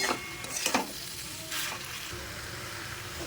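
Potatoes cut into large chunks frying with onion and garlic in a pan, a soft steady sizzle with a couple of brief stirring scrapes near the start, close and fairly quiet.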